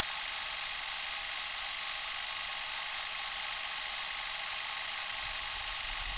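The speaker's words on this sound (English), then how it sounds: "This is what this particular camera sounds like when there's a finished cartridge or a" Super 8 camera running with a finished or jammed cartridge, a steady high whirring hum without film transport, constant and close, alone.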